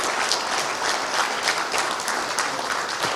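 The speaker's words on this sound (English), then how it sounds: "Everyone stand up and keep clapping." An audience at a live talk event applauding, a dense, steady wash of clapping from many hands throughout, loud and close, with no talk over it.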